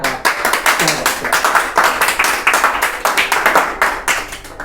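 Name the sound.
audience clapping after poetry recital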